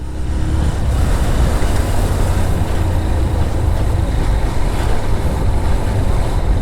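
A Honda CB Hornet 160R ABS motorcycle engine under hard throttle, heard as a loud, steady, continuous roar with heavy wind buffeting across the whole stretch.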